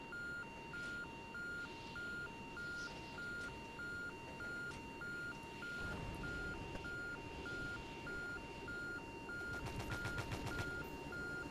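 A repeating electronic alarm beeps in an even on-off rhythm throughout aboard a helicopter carrier in the video game Stormworks, with game-like rumble and bursts of rapid clicking near the end.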